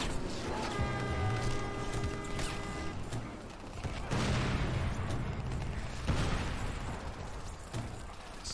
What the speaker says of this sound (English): Explosions, motherfuckers!